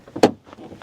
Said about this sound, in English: And look how the door closed.